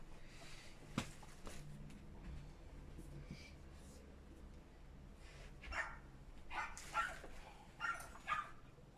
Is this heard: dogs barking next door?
yes